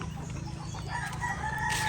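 Farm chickens on a cattle farm cluck while a rooster crows in drawn-out calls, heard at moderate distance over steady outdoor background noise.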